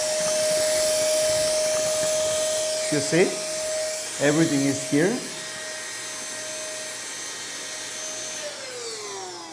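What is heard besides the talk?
high power cordless car vacuum cleaner running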